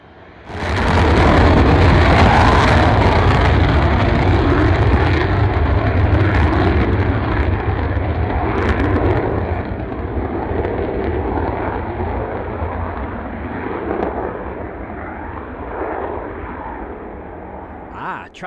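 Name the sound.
Eastern Airways airliner flying in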